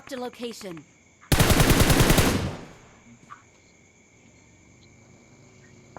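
A burst of rapid automatic gunfire in a video game lasts about a second, loud and close, following a brief voice and leaving quiet background tones and faint clicks.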